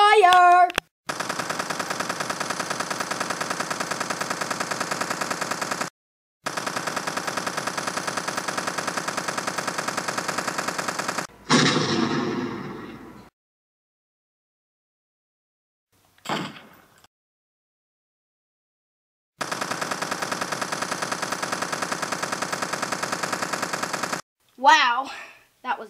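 Long sustained bursts of machine gun fire from a video game, loud and continuous, broken by short pauses, a sliding mechanical clunk and silence, with a voice briefly heard at the start and end.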